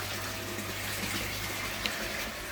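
Steady rushing and splashing of water as a pump starts circulating a newly filled garden fish pond, continuous and fairly loud with a low hum underneath, no voices.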